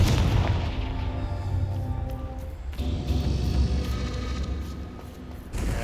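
A Confringo fire spell blasts in the Hogwarts Legacy video game, a deep booming rumble that rolls on for several seconds with a sharp burst midway.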